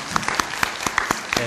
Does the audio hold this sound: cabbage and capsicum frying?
no